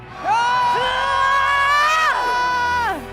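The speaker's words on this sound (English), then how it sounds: "the louder the audience scream, the faster and stronger you will charge" A live crowd at a Dungeons & Dragons show at RuneFest screams and cheers loudly in sustained, rising shouts that peak and then trail off, with no speech over it.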